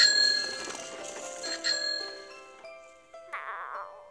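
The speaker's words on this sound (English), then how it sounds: "waving and ringing her bicycle bell" A bicycle bell on a child's trike rings several times in quick succession, bright metallic dings that decay over about four seconds, close and clear with no talking.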